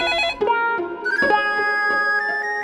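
A phone ringtone plays alone, a melodic electronic tune with stepped tones that shift pitch across a couple of seconds, clear and close.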